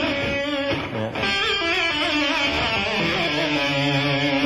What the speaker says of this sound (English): It's just where you just play a note and then pull up real Sharp,